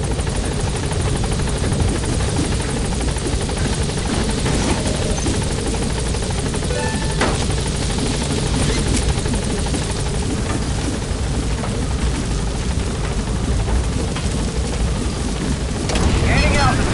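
The Pequod helicopter hovering in Metal Gear Solid 5, a loud, dense, continuous rotor and engine roar that stays steady and close, with faint voices partly buried beneath it.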